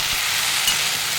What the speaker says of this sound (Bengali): আর একটা চিংড়ি মাছ দিয়ে ভাজছি